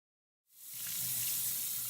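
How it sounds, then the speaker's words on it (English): Lentils rinsed under a running tap, the water starting abruptly and then pouring in a steady, close, continuous hiss and splash, with no voices. "Before cooking rice or lentils, rinse them very carefully."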